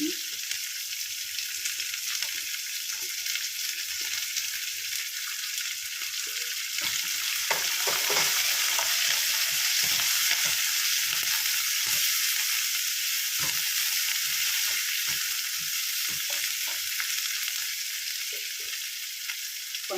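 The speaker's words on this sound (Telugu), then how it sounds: "పచ్చిమిర్చి అల్లం కరివేపాకు ఇవి వేసాము" Green chillies, ginger and curry leaves fry in hot oil for vamu rice, giving a steady, close hiss and sizzle with occasional stirring clatter throughout.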